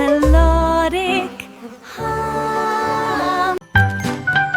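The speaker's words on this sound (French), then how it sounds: "les abeilles bourdonnent et chantent toute la journée" Buzzing bees in a children's song form a bright, musical hum with tinkling tones, rising and falling in short phrases with a brief gap near the end.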